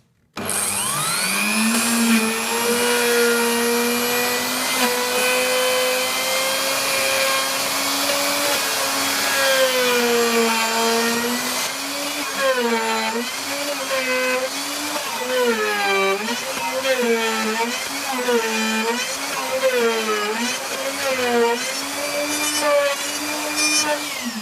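A wood router cuts a mortise groove into wood for a mortise-and-tenon joint, giving a loud, steady high-pitched whine that wavers and dips repeatedly as the bit moves through the timber.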